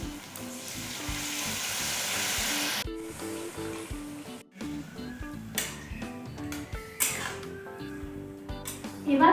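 Sauce and then water poured into a hot pan for Bengali-style chili chicken, setting off a loud hiss that fades into steady bubbling and stirring, with a melody playing underneath.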